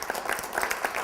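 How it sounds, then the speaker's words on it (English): Audience applauding at a presentation, a dense burst of clapping from many hands that continues steadily throughout at moderate loudness. "you applaud like crazy"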